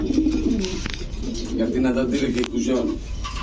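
Pigeons coo in repeated soft throaty phrases, close by and fairly loud, while someone talks over them throughout.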